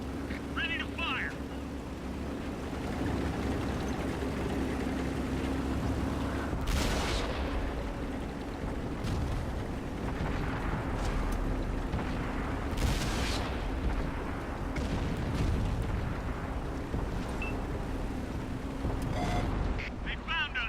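Tank cannon shots in an Xbox One tank battle game land as loud broadband booms around the middle and again later, over a steady engine rumble with battle noise and radio chatter throughout.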